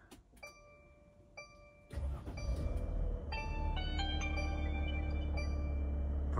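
A campervan engine starts: a few clicks and chimes, then the engine catches and settles into a steady, loud idle rumble, close and continuous, with no talk.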